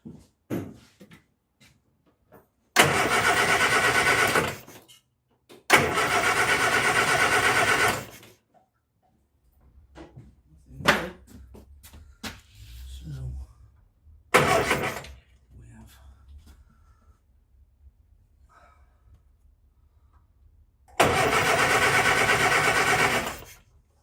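A Morris Minor engine is cranked over in a workshop in three separate loud, steady bursts of a few seconds each, with quiet gaps between them filled by faint clanks and handling noises.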